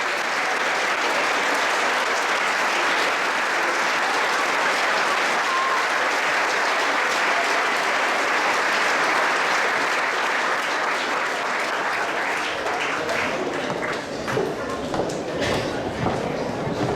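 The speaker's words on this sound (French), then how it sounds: "On va les applaudir une fois à tous." A school promotion ceremony audience gives students long, sustained applause, a thick steady roar of many hands that thins toward the end as a few voices and scattered claps come through.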